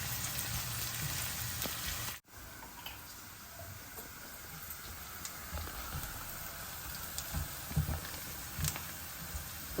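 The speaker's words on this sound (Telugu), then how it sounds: "ఇప్పుడు అల్లం వెల్లుల్లిపాయ పేస్ట్ పచ్చివాసన పోయే వరకు వేయించుకుంటాం" Ginger garlic paste fries in hot oil with curry leaves for a mixed-lentil dal, giving a steady, close crackling sizzle that drops out briefly for a moment and then carries on evenly.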